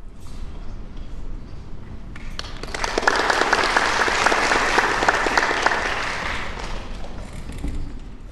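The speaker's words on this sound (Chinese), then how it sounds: "掌声欢迎他们" An audience at a junior high school string orchestra recital welcomes a student string quartet with applause that starts faintly, swells into loud, dense clapping in the middle, then tapers off toward the end.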